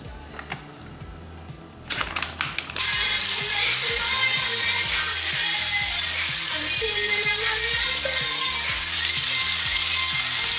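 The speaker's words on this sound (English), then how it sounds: "We're gonna cook some crispy tenders and this." Crispy chicken tenders fry in a pan with a steady, loud, continuous sizzle that holds from about three seconds to the end, preceded by quieter clattering and a low repeating background beat.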